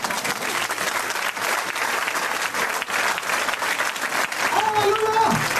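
A church congregation claps and cheers in sustained, dense applause, loud and close throughout, with a voice rising over the noise near the end.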